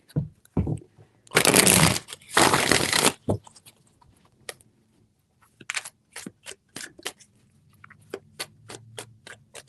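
Tarot cards being shuffled in three bursts: a long riffling rush, then a string of quick crisp taps and flicks as the deck is squared and handled up close.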